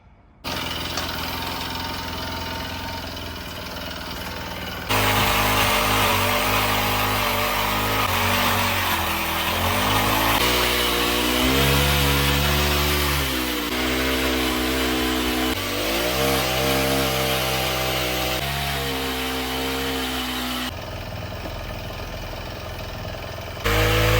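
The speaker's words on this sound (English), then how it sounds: "Maybe since I'm renting the auger, I should just start auging all the holes." Rented earth auger drilling foundation holes, its loud engine roaring and rising and falling in pitch as it bores into the ground, with quieter idling at the start and end.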